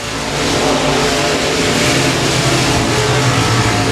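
A race car accelerates hard at Boothill Speedway, with a loud, sustained engine roar that builds quickly and holds at full throttle.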